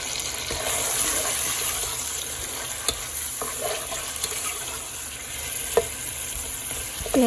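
Onions sizzle steadily in a pan, a soft continuous frying hiss broken by occasional spoon taps and stirring clicks.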